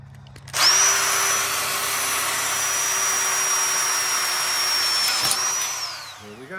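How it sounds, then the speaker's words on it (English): A Ryobi power drill, an older corded model, bores through pre-marked holes in patio furniture, its motor spinning up with a sharp whine and holding a steady high pitch for about five seconds before winding down. "Get this one drilled."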